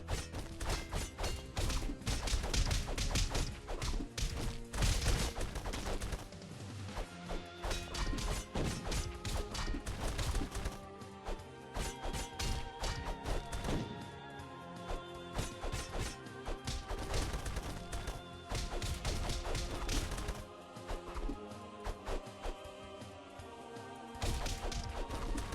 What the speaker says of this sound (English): I said stop bombing me.